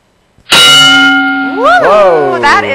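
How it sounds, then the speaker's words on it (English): A loud bell rings sharply, ringing on with a strong sustained tone that wavers and bends in pitch, close and dominant, during a public buildings talk. "That is a loud bell."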